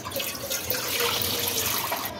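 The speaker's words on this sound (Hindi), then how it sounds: "डेचकी लें, उसमें 4 गिलास के करीब पानी डाल दें" Water poured steadily into a cooking pot, a continuous loud splashing rush with no pauses, close to the microphone.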